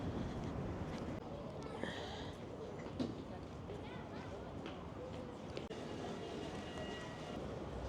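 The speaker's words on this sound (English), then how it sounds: "This is the metro station just next to our hotel." A metro train passes through a station beside a hotel, a steady low rumble and rolling clatter with faint squeals, heard from a distance under wind noise, quiet throughout.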